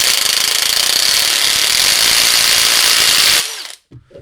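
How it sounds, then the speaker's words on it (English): A loud, steady high-pitched whirring of an impact driver spinning a copper pipe cleaner, running continuously before cutting off abruptly near the end. "this is that's just the impact that I'm running"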